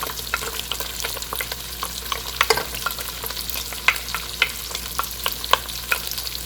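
Onions and celery fry in a soup pot for a leek and potato soup, a steady close sizzle with frequent scraping, clicking stirs scattered throughout, no voices.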